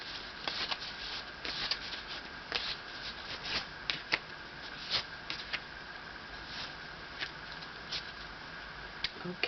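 Tarot cards from a Whispers of Love deck are shuffled and drawn, giving soft, quick clicks and rustles in an uneven patter, close but quiet, with no voices.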